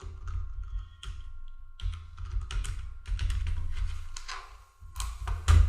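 Keys clatter on a computer keyboard during accounting data entry, a quick irregular run of close taps and clicks with brief pauses and no talking.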